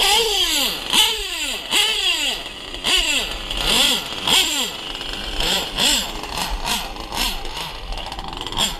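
A small electric RC truggy motor whines up and down in repeated sweeping revs during a test drive, loud and close, each rising pitch followed by a drop, with steady mechanical hum underneath.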